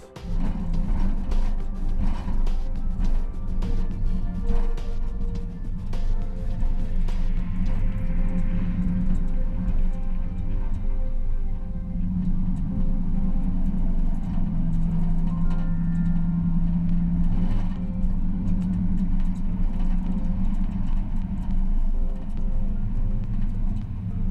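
A compact pickup truck on the move gives a continuous low road and engine rumble, close and fairly even throughout, with no voices.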